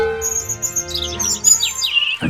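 Small birds chirp and tweet as a sound effect over a steady musical backing, bright repeated calls that grow busier and more overlapping toward the end.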